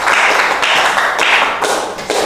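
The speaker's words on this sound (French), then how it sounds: "On applaudit pour les paroles de Madame" Audience applause at a French talk event, dense close clapping that fills the whole short stretch at a strong, even level with slight swells.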